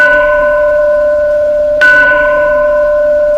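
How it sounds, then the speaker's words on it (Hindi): A single temple bell rings with a clear sustained tone, struck once more partway through and left to hum and fade. "हाँ, ये किसी मंदिर की घंटी की आवाज थी।"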